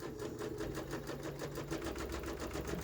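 A sewing machine stitching quilt fabric for freezer paper foundation paper piecing runs steadily and fast, its needle producing an even rapid mechanical chatter close by with no voices.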